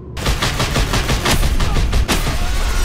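Rapid, continuous turret cannon fire from the video game Just Cause 2, a loud dense barrage of overlapping gunshot bursts lasting about three seconds with no talk.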